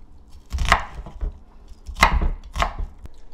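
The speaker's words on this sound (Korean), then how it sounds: "이거 양파를 좀 썰어 넣어야지" A knife chops onion on a cutting board for Korean beef bulgogi, a few distinct, sharp thuds spaced irregularly and heard up close with no talking.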